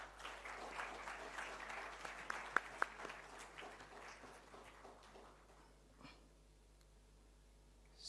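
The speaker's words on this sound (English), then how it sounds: "Please give a loud round of applause." Audience applause at an evening research scholars day function, a crowd clapping steadily for about five seconds with a few sharp individual claps, then thinning out and fading into near silence.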